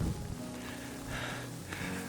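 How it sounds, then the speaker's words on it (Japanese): Small hail pellets mixed with rain fall on a mountain trail along the Omine Okugake pilgrimage route, a steady close pattering hiss with a few brighter taps and no talking. "なんかさっきからあられみたいな白い小さい粒が降ってきてるような気がするんですけど"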